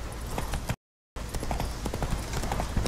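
Horse hooves clip-clop at a brisk trot in Witcher 3, loud and close. A short silent gap breaks the run partway through.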